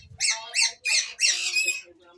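A pet bird squawks close by in four harsh, loud bursts, the last drawn out into a wavering call, with a brief low rumble at the start.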